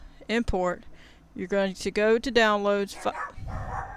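Several dogs bark and yip nearby in short bursts, loud and overlapping with someone talking through them.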